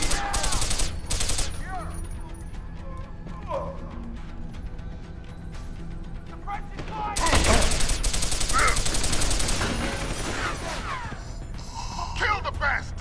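Gunfire in a large firefight in Deus Ex: Human Revolution, with rapid automatic bursts and single shots rattling across the scene and a dense volley in the middle, while voices shout over the shooting.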